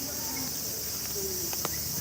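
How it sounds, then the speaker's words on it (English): A steady, dense insect drone fills the background, a continuous high chirring with a few faint clicks over it. "You can hear the cicadas chirping away"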